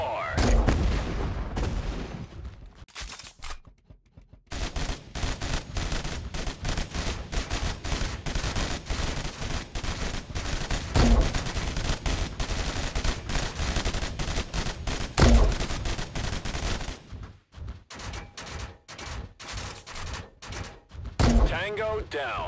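Gunfire in a war video game: continuous loud bursts of automatic fire and booms filling most of the stretch, with a brief lull near the start and voices over the shooting.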